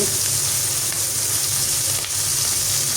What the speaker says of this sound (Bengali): মাছটাকে খুব ভালোভাবে ভেজে নিচ্ছি